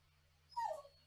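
A dog gives a short, rising whimper or whine, faint and close, over a low steady hum in a quiet room during a Sunday afternoon cooking session.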